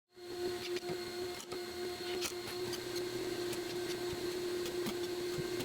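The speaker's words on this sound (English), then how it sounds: "turn on the vacuum table to suck the whole thing flat to the spoil board" A woodworking vacuum table runs steadily, holding a glued and pocket-screwed assembly flat to the spoil board, giving a constant close motor drone with a tonal hum and occasional faint clicks, no voices.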